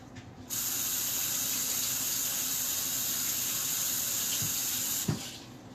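Tap water runs steadily into a sink as hands are washed, a broad continuous hiss lasting several seconds before cutting off, followed by a brief clunk.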